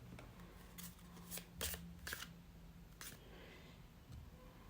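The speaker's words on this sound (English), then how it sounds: "This way we can shuffle them for the piles in a much easier way." A deck of cards is riffled and shuffled for an aura reading, a series of soft, quick crisp bursts close by at a quiet level, with a faint hum underneath.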